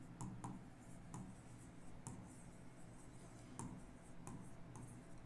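A pen scratches steadily across paper, jotting out polynomial expressions by hand in short strokes with small taps between them, faint and close with no talking.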